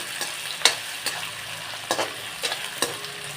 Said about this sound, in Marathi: ही लसूण अद्रकची पेस्ट आहे ती आपण याच्यातच घालून घेऊया